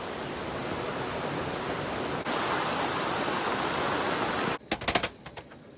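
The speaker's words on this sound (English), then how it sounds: "we went from a little rain to a lot of rain" Heavy rain pours down at a cabin campsite in Forillon National Park on Quebec's Gaspé coast, a dense, steady hiss lasting several seconds before cutting off into a few scattered knocks and drips.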